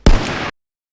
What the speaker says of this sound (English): 50 cal sniper